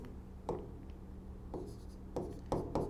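Pen strokes on paper during a maths lesson, a few short scratchy bursts spaced irregularly over a quiet hum, close and fairly soft, with no voice.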